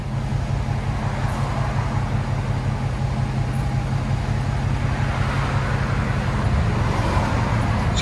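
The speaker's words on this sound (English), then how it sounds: "Dodge Challenger 2020 Beast with a Hemi." Deep, steady V8 rumble from a 2020 Dodge Challenger with a 5.7L Hemi and aftermarket exhaust, a continuous loud low drone held at a constant idle-like level for the whole stretch, with no voices.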